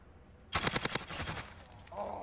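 Machine gun fire in a shooter video game: a rapid burst of about six loud, sharp shots, then a rattling tail and a quieter game sound toward the end.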